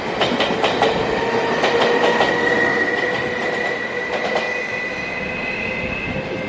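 New locomotive-hauled train in Taiwan pulling away and accelerating, a loud close roar with rhythmic wheel clatter over rail joints and a thin squeal running throughout.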